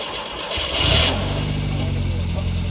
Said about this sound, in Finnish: No ihan normaalistihan toi lähti käyntiin